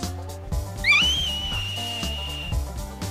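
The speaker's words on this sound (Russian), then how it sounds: "Свист народа Ли." Whistling by the Li people of Hainan: one high, piercing whistle rises sharply and then holds a long, steady pitch for nearly two seconds over a rhythmic, music-like backing.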